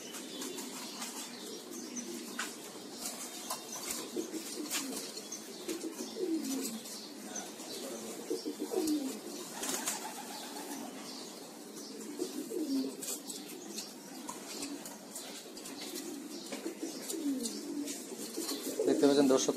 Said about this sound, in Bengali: দর্শক দেখতে পাচ্ছেন এগুলো সবই পাঙ্খি কবুতর।